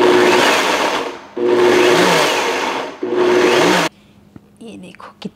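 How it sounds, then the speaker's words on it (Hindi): A mixer grinder whirs loudly in three bursts, grinding roasted kalonji masala spices into a fine powder, with brief pauses between runs before the motor cuts off and small clatters of the jar follow. "मसाला ठंडा हो गया है, मिक्सर जार में डाल के हम बारीक पाउडर बना लेंगे।"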